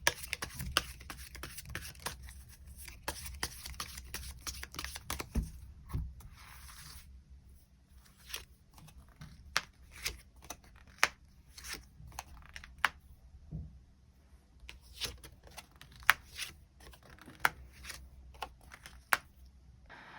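Tarot cards are shuffled and drawn in a quiet room, with soft papery riffles and crisp taps and flicks scattered across the stretch, faint and close.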